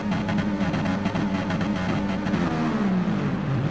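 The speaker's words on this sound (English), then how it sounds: "and build up the revs" Race car engines in a racing video game rev up on the grid at a Tokyo Expressway south inner loop track, a loud, steady, sustained droning whine that holds throughout without pause.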